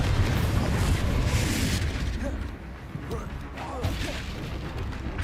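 Confringo fire-blast spell detonating in Hogwarts Legacy, a loud booming burst at the start that rumbles and fades, followed by softer crackling spell effects with faint voices underneath.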